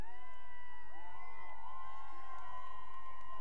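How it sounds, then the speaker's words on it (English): Spartan football crowd in the stands getting loud, a sustained roar of cheering and high whoops that rises and carries from a distance across the field. "Spartan crowd getting loud again"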